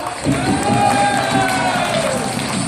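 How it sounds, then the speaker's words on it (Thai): Party guests cheer and clap for police officers at a Nakhon Sawan reunion of police cadet class 17, a dense crowd roar with shouts and voices over steady hand claps, filling the short moment at close range. "ขอเสียงปรบมือให้ข้าราชการตำรวจทุกๆท่านเลยครับ"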